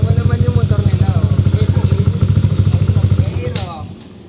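A Yamaha Aerox scooter engine idles close by with a steady rapid pulsing putter, then cuts off near the end; a person talks over it.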